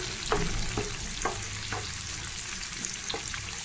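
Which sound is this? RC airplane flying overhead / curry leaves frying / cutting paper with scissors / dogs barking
curry leaves frying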